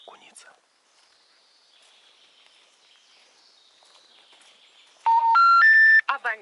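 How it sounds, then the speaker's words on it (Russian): Touch-tone dialing on a mobile phone in a quiet forest: faint woodland ambience with a soft high whistle, then a loud burst of stepped electronic tones rising in pitch near the end. "Звоню на мобильный."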